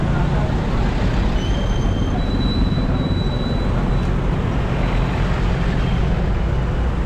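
Steady broadband road traffic rumble on a drizzly day in the Philippines, continuous and moderately loud with faint high tonal whines, no clear speech over it.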